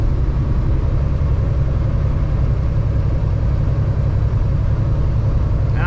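A heavy truck's engine drones steadily at near full throttle in 8 low, hauling a heavy load through snow and ice near Hearst, Ontario, a constant loud, low rumble with no pauses.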